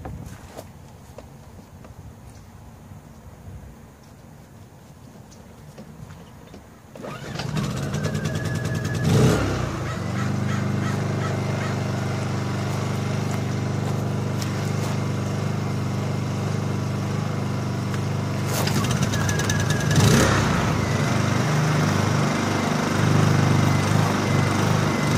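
A pair of Honda EU2000i generators after a tune-up start up with an abrupt jump to a steady, loud mechanical drone. The engines keep running with slight surges, and occasional clanks are heard over the hum.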